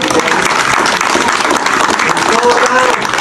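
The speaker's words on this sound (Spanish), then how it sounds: "Yo quiero que le regalemos un aplauso a doña Dora." Audience at a senior citizens' month celebration applauding, a loud, steady wash of many hands clapping together that fills the moment without pause.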